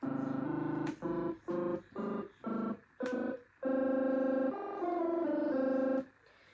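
An electronic omnichord chord tone switches rapidly between octaves in a choppy, stuttering pattern from pressing both buttons at once, then holds steadier wavering notes before cutting off; no talking.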